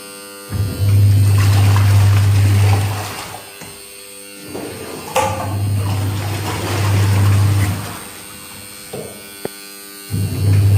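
A washing machine's motor drones with a low, steady hum, cutting out and starting again in long stretches amid clattering household noise.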